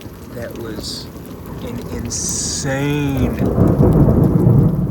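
Thunder from a 5 AM lightning storm over Houston, Texas, rumbles low and loud through rain, building toward the end, while a person talks over it.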